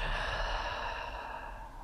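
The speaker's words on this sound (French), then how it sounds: "Expire par la bouche." A slow, steady exhale through the mouth during a calm yin yoga breathing cue, a soft continuous breathy sigh that stays fairly even for about two seconds and fades slightly toward the end, with no talking.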